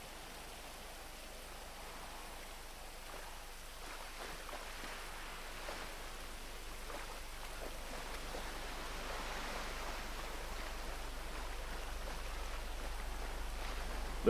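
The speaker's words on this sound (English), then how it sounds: "Hear the rain." Rain falls on a beach in the GTA video game, a steady soft hiss that slowly grows louder and denser, with a low rumbling undertone building toward the end.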